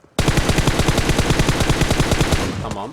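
Automatic gunfire in the shooter game PUBG Mobile rattles off as a rapid, loud, evenly spaced burst lasting over two seconds before cutting off, with no talk over it.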